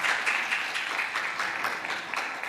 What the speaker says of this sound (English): We can give her a louder round of applause for that.